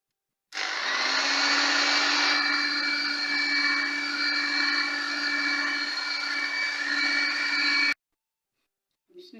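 An electric hand beater whirs steadily as egg yolks are mixed into whipped egg whites for homemade cupcake batter, running loud and close for about seven seconds before cutting off abruptly.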